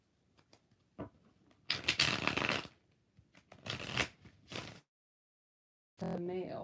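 Tarot cards shuffled by hand in several separate bursts, crisp riffling rustles with short pauses between them, close and fairly quiet, with no voices.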